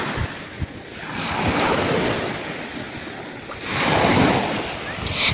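Sea waves break on a beach in Ilocos, a continuous loud wash of surf that swells and ebbs, with heavy wind buffeting the microphone close by.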